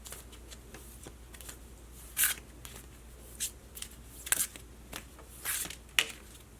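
Oracle cards are shuffled by hand in quick riffles and soft slaps, close and quiet, with a few brighter snapping flicks and no talking.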